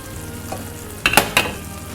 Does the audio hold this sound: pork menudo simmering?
yes